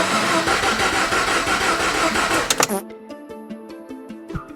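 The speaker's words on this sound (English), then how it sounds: "the starter was too weak to turn the engine over fast enough" A Mazda RX-8 with a weak starter cranks with a jumper pack on the battery. Loud, rough mechanical churning turns into a brief engine burst, then drops to a sparse rhythmic knocking.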